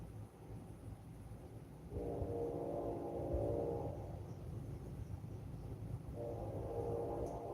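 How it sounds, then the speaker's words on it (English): A train rumbles past with a steady low roar, and two sustained horn blasts sound over it, one in the middle and a shorter one near the end, fairly distant. "Here comes the real life train."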